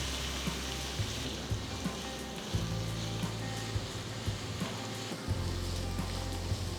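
Soft continuous sizzling of chopped onions frying in hot oil, a steady crackle with faint low hum in the background and no voices.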